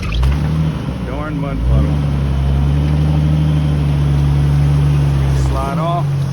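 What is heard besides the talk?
Jeep Wrangler TJ 4-liter engine revving in mud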